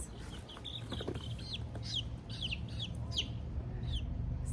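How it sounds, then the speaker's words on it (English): Newly hatched baby chicks in a small box on a farm, a series of high, repeated peeps over a low steady hum, close and moderately loud. "In this little box, I have some new members of the farm family. I have some little chicks."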